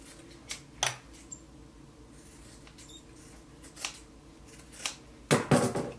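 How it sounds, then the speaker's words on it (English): Regular scissors trim the fabric seam allowance on a beginner's kids jacket, giving a few quiet, sparse snips with a louder cluster of cuts near the end. "I'm just gonna use these regular scissors. And you can trim your seam allowance."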